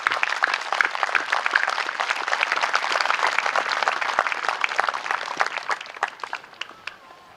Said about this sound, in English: Please, let's applaud our veterans, living and deceased.